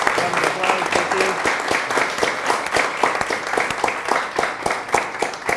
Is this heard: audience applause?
yes